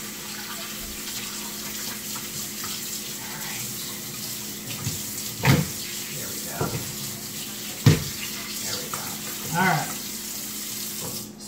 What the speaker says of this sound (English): you can tell it's clean because all the water that's coming off of it is clean